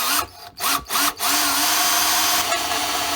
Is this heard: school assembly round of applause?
no